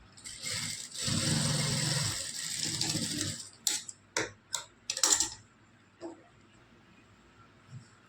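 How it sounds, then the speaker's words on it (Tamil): An overlock sewing machine runs a steady, close whirring burst of a few seconds while stitching a blouse seam, followed by a series of sharp clicks and ticks as it stops and the fabric is handled. "ஸோ நான் ஓவர்லாக்கும் போட்டுக்கலாங்க"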